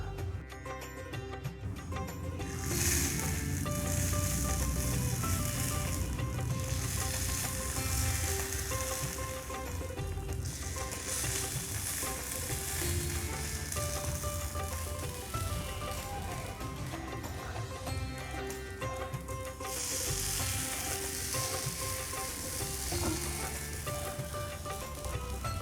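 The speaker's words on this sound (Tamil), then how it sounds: "இப்போ நம்ம நெக்ஸ்ட் குழி பணியாரம் தட்டில் ஊற்றிடலாம்." Kuzhi paniyaram batter poured into a miniature paniyaram pan sizzles quietly and steadily, with soft bursts of brighter crackle recurring every few seconds and no voices.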